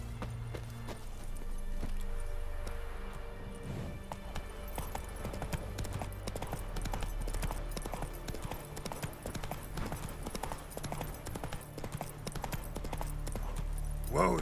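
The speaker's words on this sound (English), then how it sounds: "Whoa there, Roach." Horse hooves clip-clopping steadily in The Witcher 3 as the mount trots along, a close, regular rhythm over low game ambience and music.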